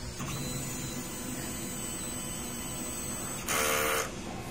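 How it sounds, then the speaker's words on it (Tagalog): Inkjet printer running a head clean cycle, a steady mechanical whir throughout with a brief louder buzzing burst near the end, fairly quiet and close. "Ganito naman mag-head clean. Pindutin lang yung clean, normal heads."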